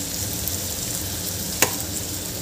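Raw papaya vegetable curry cooks in a pan with a steady soft sizzle, and a single sharp scrape of a spoon against the metal cuts through.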